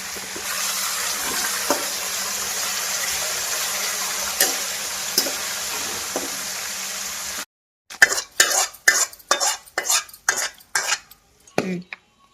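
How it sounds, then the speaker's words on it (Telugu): Steady sizzling of tempering in a pan for several seconds, then a series of sharp scraping and clinking strokes as a spoon mixes rice with the tempering in a pot. "ఒకసారి అన్నం మొత్తం ఇలా తాలింపు కలిసే వారికి కలిపేసుకుందామండి"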